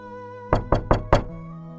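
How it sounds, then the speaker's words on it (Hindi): Four sharp knocks on a gate in quick, even succession, close by, with a faint steady tone underneath. "तभी बाहर से गेट खटखटने की आवाज आती है।"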